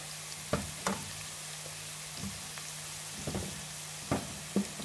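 Liver pieces browning in a hot frying pan for Kenyan-style fried liver, a steady soft sizzle running throughout with several sharp clinks and scrapes of a utensil stirring against the pan.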